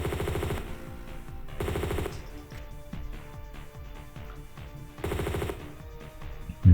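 Enemy gunfire in Tomb Raider 2: Golden Mask Remastered, on The Cold War level, comes as three separate bursts of rapid shots, each under a second long, loud and close, with a steady game backdrop in between.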